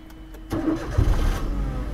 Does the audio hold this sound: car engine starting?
yes